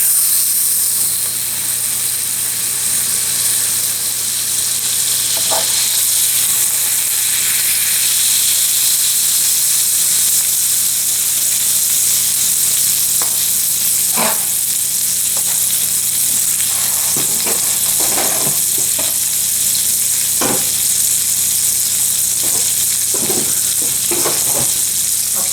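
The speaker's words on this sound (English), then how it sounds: "On goes the steak." A ribeye steak sizzles on a hot griddle, a steady loud frying hiss running the whole time with scattered sharp pops and crackles breaking through, no voices.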